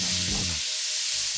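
Lamb chops sizzle in a hot pan, a dense crackling fry with some scraping that drops out briefly near the end, then returns close and steady.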